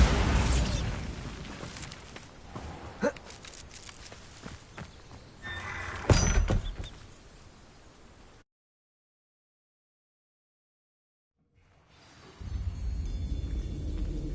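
A Bombarda spell blasts in the Hogwarts Legacy game, a series of booming bursts and thuds over several seconds, followed by a full silent gap and then a low rumble returning.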